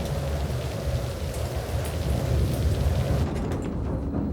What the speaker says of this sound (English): Right now we have heavy rain on the airport.